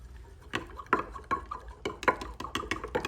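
A utensil stirs colour drops into a soft plastic bait mix, giving a series of soft clinks and scrapes against the container at an uneven rhythm, close up and fairly quiet.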